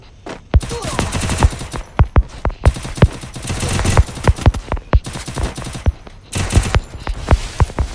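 Rapid bursts of video game gunfire, sharp repeated shots in clusters with short pauses between volleys, loud and close throughout, with no speech over them.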